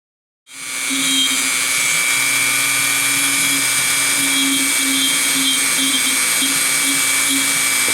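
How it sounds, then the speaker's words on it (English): A high-speed power tool grinds down the seam on a latex prop. It starts sharply and then keeps up a loud, steady, high whine with a faint wavering pitch for several seconds. "I'm going to try to grind this down a little"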